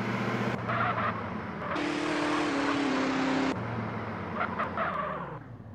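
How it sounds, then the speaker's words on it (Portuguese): Car engine in the video game GTA San Andreas, a steady droning motor note that swells and rises in pitch midway before settling back, loud and continuous with no talk. "O carro faz um barulho feio."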